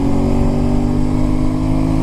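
An Aprilia Tuareg 660 motorcycle engine roars loudly and continuously, with a throaty airbox growl held close and steady for a couple of seconds.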